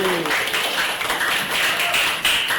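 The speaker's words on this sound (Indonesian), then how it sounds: "Tepuk tangan buat Java dan Nurdiana Putri." Students clap for classmates in a junior high Indonesian-language classroom lesson, a steady patter of hand claps with a voice speaking briefly at the start.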